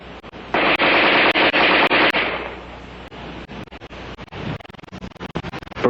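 An ArmaLite AR-10 rifle fires a rapid, loud burst of close shots during an adverse conditions test. The sharp reports then continue more raggedly and unevenly.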